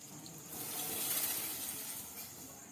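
Flattened rice being stirred and washed in warm water, a faint soft swish and slosh that swells and fades over a few seconds.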